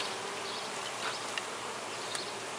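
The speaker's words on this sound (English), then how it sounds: "We're going to shake these bees right here inside the hive." Honey bees being shaken into a hive during a removal from a ceiling create a dense, continuous, close buzzing swarm drone, steady and loud throughout with no voices.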